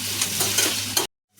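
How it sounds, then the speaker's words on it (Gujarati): Mustard seeds, chillies and curry leaves crackle and sizzle in hot oil as a tempering for khaman. The sizzle is loud, dense and steady for about a second, then cuts off abruptly to silence. "તેલમાં રાઈ નાખી દીધી અને મરચાં અને મીઠો લીમડો."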